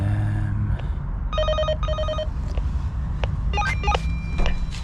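A building intercom keypad at an apartment entrance sounds a run of electronic tones after apartment 25 is dialed, with bright paired beeps followed by shorter chirping signals under faint background noise.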